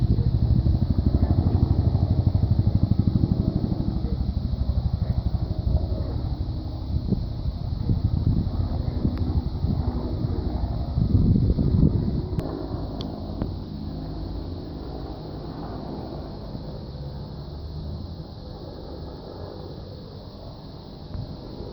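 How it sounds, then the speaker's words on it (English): A firefighting helicopter used for water drops flies overhead, its loud rotor thumping and engine whine fading gradually as it moves away, with some wind noise on the microphone. "That's the sound of the fire chopper that was dunking some water on the fire south of me earlier."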